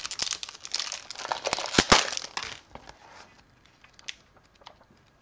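Plastic Temu haul package being torn open, with dense, close crinkling and crushing for about three seconds that thins out into a few scattered rustles and crackles.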